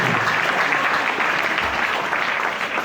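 A church congregation claps during a worship and praise service, dense sustained applause filling the whole moment, loud and close with a faint shout mixed in.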